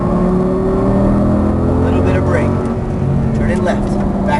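An Audi race car on a Las Vegas exotic-racing track, its engine revving steadily under throttle, loud and close, with a driving coach talking over it.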